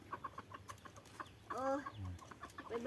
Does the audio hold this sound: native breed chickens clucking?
yes